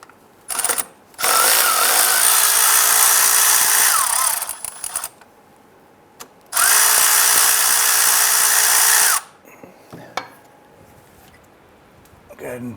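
A powered driver or ratchet tool runs on a 13mm nut at the starter of a 2005-2010 Chrysler 300 with the 5.7L Hemi V8, two loud whirring bursts of about three seconds each with short clicks and quiet gaps between.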